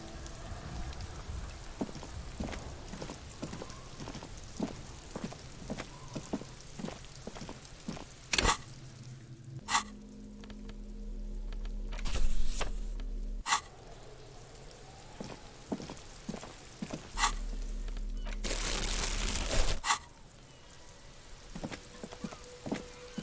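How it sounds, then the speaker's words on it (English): Steady rain pours over the great city of Revachol in Disco Elysium, dripping from eaves and flooding gutters, with scattered close drops tapping throughout and a few brief louder swells. "All around you, rain falls on the great city of Revachol. Rain drips from the eaves and floods the gutters"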